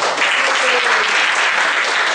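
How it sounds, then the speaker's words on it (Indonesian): A public speaking group gives a burst of dense applause for a participant, loud and close throughout the short moment, with no talking over it. "Tepuk tangan Bayu"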